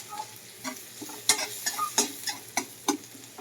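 Garlic, onion and siling labuyo chili frying in a pan for pork and chicken adobo: a steady sizzle broken by crisp, repeated scrapes of a spatula stirring, close and clear.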